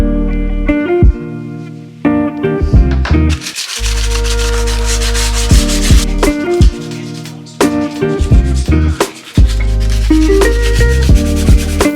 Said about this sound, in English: I'm gonna sand part of this fish